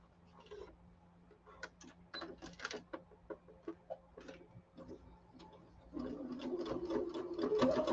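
A sewing machine stitches a piece shut in short, faint bursts of rapid ticking, stopping and starting, then running into a longer, louder continuous stretch of stitching near the end.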